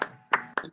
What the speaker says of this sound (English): let's have an enormous round of applause for him